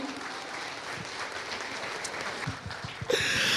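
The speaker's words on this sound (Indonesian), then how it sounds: "tepuk tangan sekali lagi untuk Bu Dewi Hesni" An audience at an Indonesian workshop session claps in a steady, moderately loud burst lasting a few seconds, ending abruptly.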